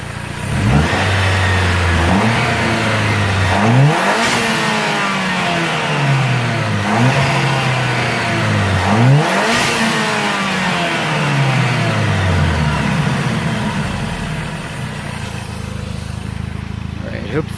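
2008 Dodge Caliber SRT-4 engine revved repeatedly from close by, a series of loud blips that rise and fall in pitch, each dropping back toward idle, before settling into a steady idle.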